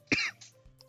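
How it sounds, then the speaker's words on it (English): A single sharp, raspy cough from an itchy throat, close to the mic, followed by a short breathy tail and faint quieter sounds. "I'm getting more and more successful at the coughs as my throat is getting a lot more itchy"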